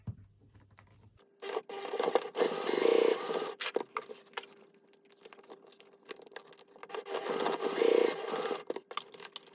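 A sewing machine stitches the straight edges of a cotton wallet in two loud whirring bursts, separated by quieter handling clatter and fabric shuffling, close by and with no talking.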